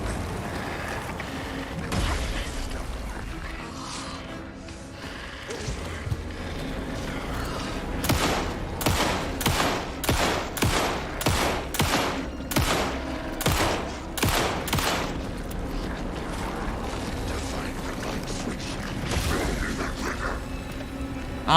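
Gunfire in the survival horror game Alan Wake 2, a rapid string of about a dozen loud, close shots in quick rhythm, preceded and followed by quieter ambient game sounds.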